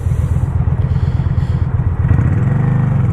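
Straight-piped Honda motorcycle engine running close by, a loud, raw, rapid pulsing exhaust beat that stays steady, then picks up slightly near the end.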